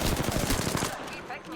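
Rapid bursts of video game gunfire crackle loudly, then thin out into sparser shots toward the end, with game sounds filling the background.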